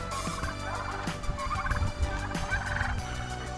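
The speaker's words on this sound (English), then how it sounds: "Here's the turkeys." Farm turkeys gobbling in a pen during morning chores, several rapid warbling gobble calls overlapping at close to moderate distance with steady farmyard background noise and no talking.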